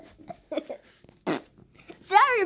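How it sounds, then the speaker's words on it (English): A short, buzzy cartoon fart sounds in a Paw Patrol animated scene, set among brief character voices and sound effects, fairly close and clear. "I kind of farted in"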